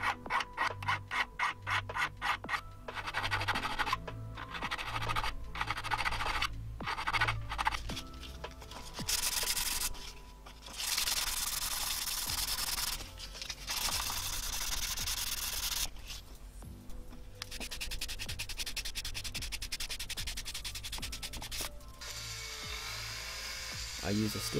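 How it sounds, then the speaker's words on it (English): A silver butterfly ring is filed and sanded by hand, with rhythmic rasping strokes at first, then longer scratchy rubbing passages that start and stop, close and fairly quiet. "We can now start finishing the ring by filing and sanding down the sides and faces."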